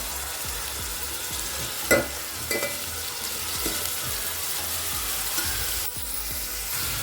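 Sliced onions and curry leaves fry in hot oil, a continuous sizzle with several spoon-against-pan scrapes and knocks while being stirred.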